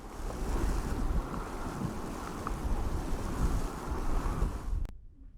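Steady, loud gusting wind at a campsite beside Sua Pan in Botswana's pans, blustering continuously across the microphone for about five seconds before cutting off abruptly, with no voices.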